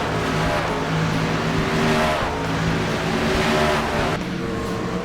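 Several racing trucks in a video game restart together at Dover, engines roaring loud and continuous with layered harmonic drones, tires spinning through the field.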